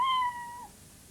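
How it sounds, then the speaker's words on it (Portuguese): A tiny kitten gives a single short, high meow that fades away, close and clear against a quiet background. "Dentro da gaiola estava um gatinho minúsculo."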